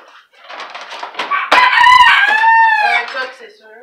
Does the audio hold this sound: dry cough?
no